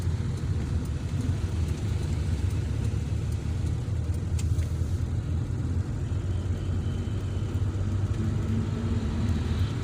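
A car drives through heavy road traffic, with a steady engine rumble and road noise that stays loud and constant throughout, no talk.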